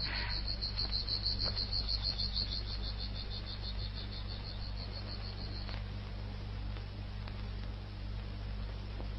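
A caged katydid chirps in a rapid pulsing trill for several seconds before stopping, clear and fairly close above a steady low hum.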